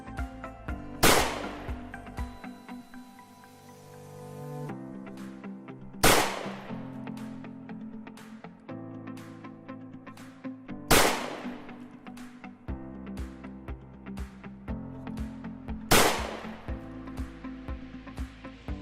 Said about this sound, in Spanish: A continuación mostraremos un ejemplo de cómo se escucha un ruido de impacto.